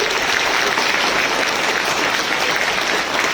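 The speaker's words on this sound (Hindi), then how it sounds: "तो एक बार अपने आप के लिए भी जोरदार तालियां बजा लीजिए।" Loud, dense applause fills a hall at a Bada Business opening ceremony at LNCT University, a continuous roar of many hands clapping together with no break and no voices on top.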